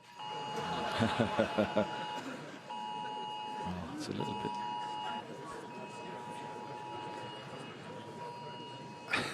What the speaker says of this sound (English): That's everybody's mobile phones making that alert sound.